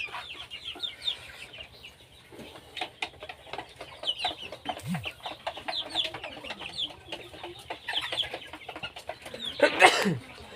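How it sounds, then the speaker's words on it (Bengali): Chickens in a small farm coop cluck and murmur on and off at close range, with scattered soft calls building to a louder, sharper squawk near the end. "আমার খামারের মধ্যে অনেকগুলা মুরগি আছে, তো আপনাদেরকে এখন দেখাবো"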